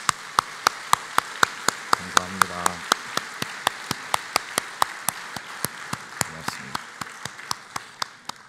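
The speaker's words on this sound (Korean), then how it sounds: "우리 박수 한번 하겠습니다" A church congregation claps together in a steady, even beat of sharp, regular claps that continues throughout, while a voice speaks briefly over it.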